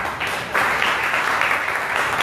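A church congregation breaks into applause during a sermon, a broad, steady wash of clapping from many hands that swells after a brief start and holds throughout.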